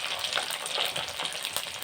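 Dum aloo ingredients sauté in a pan with salt and turmeric, for a dish made without onion or garlic, giving a continuous close crackling sizzle throughout with no voices.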